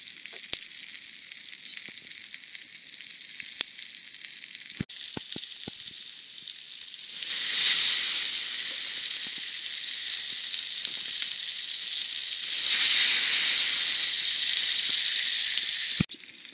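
Potatoes and rabbit fry over an outdoor bushcraft bivouac fire, a steady close sizzle and hiss that swells louder in two long surges, with occasional sharp clicks and taps of utensils.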